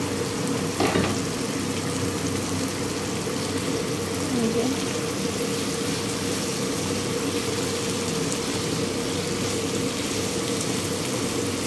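Quail meat fries and is stirred in a pan, giving a steady, close sizzle that holds evenly throughout, with a brief scrape near the start.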